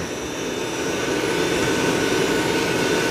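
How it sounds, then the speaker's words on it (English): A Dreame L20 Ultra robot vacuum runs while mopping and vacuuming, giving a steady, loud, close whooshing roar with no change across the few seconds. "it's mopping and vacuuming now"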